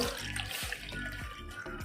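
Water splashes and gurgles steadily into a measuring cup, close by, with a few brief knocks and clinks over the pouring.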